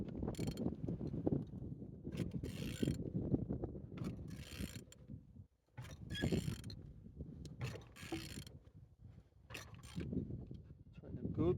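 A truck engine, unit 12J909, idles steadily with mechanical clatter and whirring, running loud and continuous up close, dipping briefly to near silence once before resuming.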